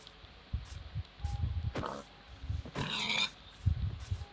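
Pigs oinking in the video game Minecraft, several short grunts scattered across the moment at moderate loudness, alone without talk.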